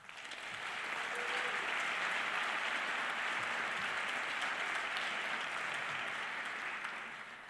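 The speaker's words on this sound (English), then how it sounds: "Please join me in a round of applause to thank all those who have helped make this year's CWA happen." A large conference keynote audience applauds steadily and fairly loudly for several seconds, the clapping swelling at the start and fading slightly at the end.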